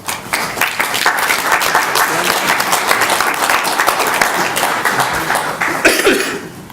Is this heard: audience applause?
yes